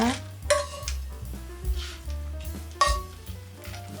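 Anchovies are stir-fried in a pan for Korean myeolchi-bokkeum. A utensil scrapes and clinks against the pan in uneven strokes over a low sizzle, close and alone.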